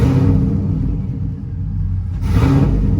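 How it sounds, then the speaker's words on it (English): A Chevrolet Silverado truck on a test drive, its engine making a loud, steady rumble heard from close by that eases briefly and then swells again. "So let's get the step side out the way so we could do a test drive and see what it runs like."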